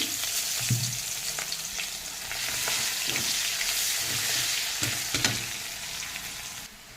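Chopped onion fries in hot oil with cumin, bay leaf and cinnamon, a steady close sizzle broken by occasional stirring scrapes.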